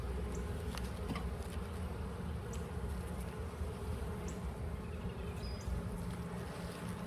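Dense swarm of honeybees droning steadily in an opened hive under inspection, a constant close buzz with occasional individual bees zipping past near the listener, no talking.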